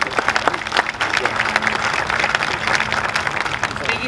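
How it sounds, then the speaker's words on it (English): Crowd applauds warmly for Congresswoman Tulsi Gabbard at a Pearl Harbor survivor parade event, steady dense clapping throughout with some voices and cheers mixed in. "Warm round of applause for Congresswoman Tulsi Gabbard."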